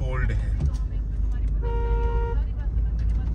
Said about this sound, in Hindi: हॉर्न कम आवाज दे रही है, जैसे दम हो रहा है हॉर्न में।